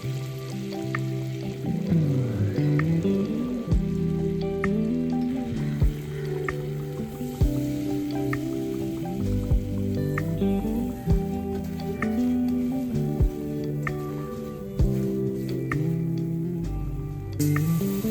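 Butter and all-purpose flour fry gently in a pan over medium flame as the base for a white sauce, a low, quiet sizzle under background music with occasional spoon taps.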